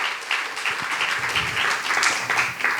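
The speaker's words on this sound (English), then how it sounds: "So, a big round of applause." Audience clapping for a performer at a spoken-word event, a lively crowd applause with distinct individual claps standing out, steady and close throughout.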